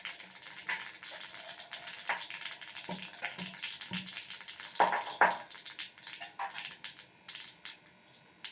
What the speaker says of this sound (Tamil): எண்ணெய் சூடேறினதும் கடுகு சேர்த்துடலாம்.